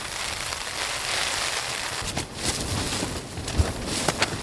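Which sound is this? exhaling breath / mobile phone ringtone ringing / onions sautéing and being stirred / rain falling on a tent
rain falling on a tent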